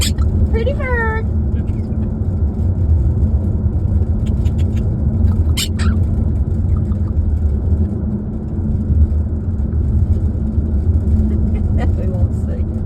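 Car driving along a road, a steady low engine and road rumble filling the cabin throughout, with a bird's whistling chirps and a human voice speaking over it at times.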